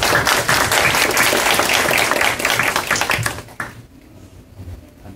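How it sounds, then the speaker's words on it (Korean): An audience at a youth voting-rights debate gives loud, dense applause that holds steady, then thins out and fades to near quiet in the final second or so. "다시 한번 큰 박수 부탁드립니다."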